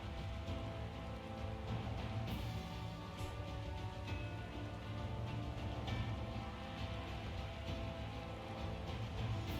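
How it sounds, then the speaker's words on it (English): Pouring rain in a video game hisses as a soft, even downpour that holds at a constant level throughout, with no voices over it. "Pouring rain."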